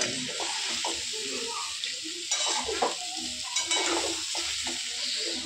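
Chopped wild vegetable sizzles steadily in hot oil in a pan, with scraping, stirring strokes breaking through the constant close frying hiss.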